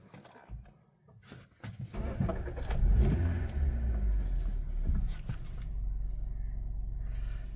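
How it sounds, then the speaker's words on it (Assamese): A Hyundai Grand i10 Nios Sportz car engine cranks and catches after a few soft knocks, then settles into a steady, smooth idle that runs close and moderately loud to the end. "বাকী এবাৰ গাড়ীখন ষ্টাৰ্ট কৰি দেখাই দিছোঁ"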